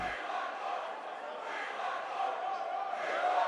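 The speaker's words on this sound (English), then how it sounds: "What the hell is the crowd chanting?" A wrestling arena crowd chants together in a steady, sustained roar that neither rises nor breaks, heard from within the venue and filling the whole stretch.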